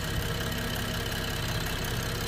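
A BMW 3.0L engine in good health with a recently replaced intake camshaft idles smoothly and continuously, a steady close low hum with no talking.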